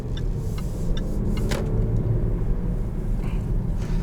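Supercharged engine of a 2019 Land Rover Discovery Si6 as heard from the cabin, a steady low hum and rumble with no distinct revs.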